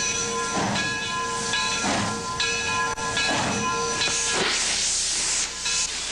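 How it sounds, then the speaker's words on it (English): Southern Pacific steam locomotive 2353 chugs out of Campo station in slow, regular bursts of hissing exhaust, with a constant ringing whistle-like tone and louder steam blasts toward the end. "Old 2353 spits and hisses, chugs and clangs out of the Campo station like a burly bull"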